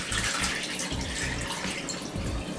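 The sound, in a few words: water running while rinsing rice to remove starch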